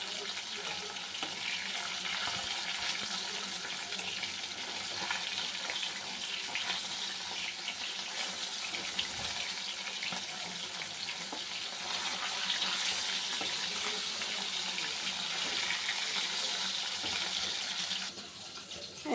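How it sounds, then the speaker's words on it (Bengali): Fish frying in hot oil, a continuous broad hissing sizzle that stays fairly even for nearly twenty seconds before easing slightly at the end, close but soft, with no talk. "এরকম তেলটা গরম হয়ে গেছে, মাছটা দিয়ে দেবো।"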